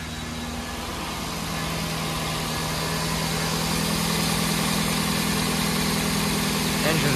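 A 2002 Lexus SC430 engine with 164k miles idles steadily and evenly, a continuous close-up hum with a constant low drone and no talking over it.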